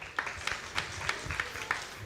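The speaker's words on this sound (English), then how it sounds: "Everyone give Steve a round of applause." Thin, scattered applause from a small audience at a comedy magic show, a few distinct claps spaced out irregularly over a murmuring room.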